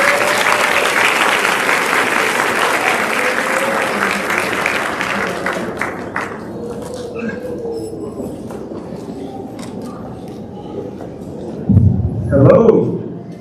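Loud audience applause greets the keynote speaker at a high school graduation ceremony, a dense roar that thins after about six seconds into scattered claps, with a voice rising near the end.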